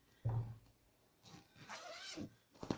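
A concealed zipper on a chintz cushion cover being handled, a short zip near the start followed by softer fabric rustles and zipper scrapes, close and quiet with no talking.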